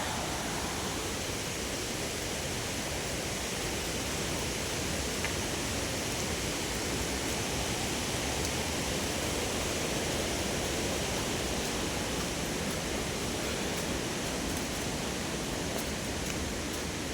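A mountain waterfall along the Himalayan foot trail between Gangotri and Kedarnath pours in the distance, a steady, even hiss of falling water that continues unbroken with no one speaking.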